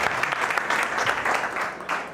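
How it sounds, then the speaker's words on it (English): Audience applause at a #GivingTuesday event in New York City welcomes Slava Rubin of Indiegogo: a dense, steady wash of clapping from a crowd, loud and continuous for about two seconds. "A round of applause for Mr. Slava Rubin"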